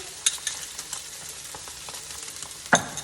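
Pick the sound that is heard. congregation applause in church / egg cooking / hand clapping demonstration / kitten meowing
egg cooking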